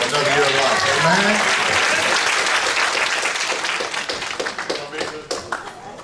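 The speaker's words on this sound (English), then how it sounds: "Give her a round of applause for another year of life." A church congregation gives birthday applause, a loud, dense burst of clapping that tapers toward the end, with a voice briefly audible over it at the start.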